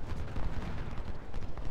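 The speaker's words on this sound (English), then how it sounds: "we've got our own, got some cannon fire going on over here as well" Civil War cannon fire in a Gettysburg battle at Culp's Hill, heard as a dense, continuous low rumble of distant booming artillery and gunfire with no clear separate blasts.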